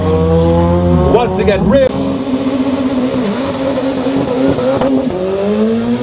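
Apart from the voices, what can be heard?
Doran Motorsport rallycross car accelerating with tire squeal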